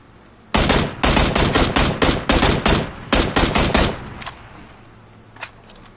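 Rapid bursts of automatic gunfire in a video game shooter, several loud volleys in quick succession with brief gaps, then tapering to quiet with a lone faint shot near the end.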